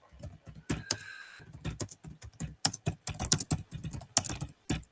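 Typing on a computer keyboard, with close, crisp key taps in quick irregular bursts and brief pauses, heard alone.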